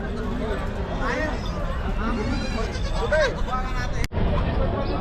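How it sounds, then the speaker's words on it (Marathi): Goats and sheep bleating at a large livestock market at Chakan, Maharashtra, with many big goats including Osmanabadi, amid steady crowd babble; several wavering bleats rise over the busy background noise. "मोठ्या मापाच्या पण बऱ्याच शेळ्या आहेत"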